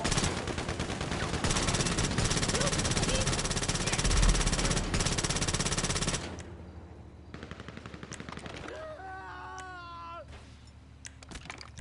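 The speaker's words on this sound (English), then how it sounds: "I don't know who the hell's shooting at me." Sustained machine-gun fire in GTA Online rattles loudly for about six seconds, then cuts out to sparser shots and background game sounds, with brief voice-like tones near the end.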